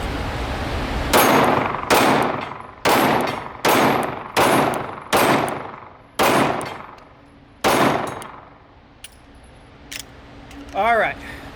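Glock G48 pistol fired at a range, nine sharp, loud, evenly spaced shots in quick succession, each with a short decaying ring, followed by a few quieter clicks and handling noises.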